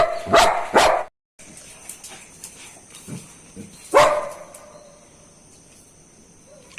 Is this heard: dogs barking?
yes